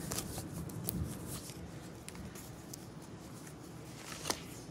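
Cards shuffled for a tarot reading make a quiet, continuous papery riffling and rustling, soft and close, with no one speaking.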